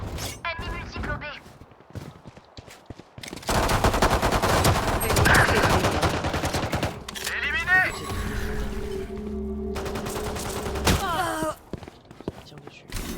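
Gunfire in the video game Valorant: bursts of rapid automatic shots and single cracks, loud and close, interrupted by pauses, with in-game effects and some speech mixed in.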